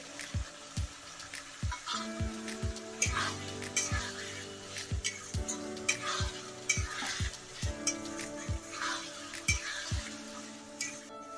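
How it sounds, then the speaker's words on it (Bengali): Chopped tomato goes into a hot pan for a yellow peas curry with mutton fat, sizzling and frying under regular spatula scrapes and knocks against the pan in a steady rhythm. "এখন দিয়ে দিচ্ছি টমেটো কুচি"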